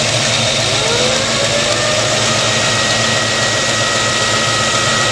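An engine idles steadily under alternator load while an electric fan is switched on, giving a loud, continuous droning hum with a faint whine drifting in pitch, close and unbroken.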